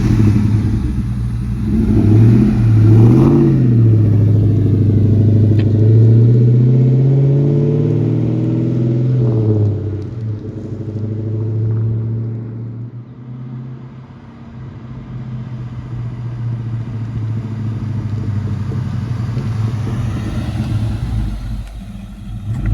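A Ford Mustang GT with a 3-valve V8 drives by outside, its engine rumbling and revving louder as it nears, then fading away, and rising again toward the end.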